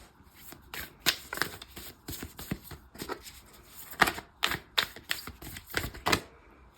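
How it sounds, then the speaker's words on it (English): Oracle cards are shuffled by hand in quick, uneven bursts of crisp riffling and slapping, close and fairly quiet, with short pauses between the bursts. "So let's do some oracle cards and see what else is coming up."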